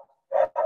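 A dog nearby barks twice in quick succession, loud and sharp, after a faint whimper, with no talking over it.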